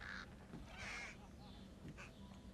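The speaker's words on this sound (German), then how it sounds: "Plötzliche Bewegungen in der Nähe von Vögeln führen dazu, dass sie sämtliche Personen in der Nähe alarmieren." Crows caw in the Thief (2014) video game, a few harsh calls spread across a quiet ambient bed, fairly faint, without talk.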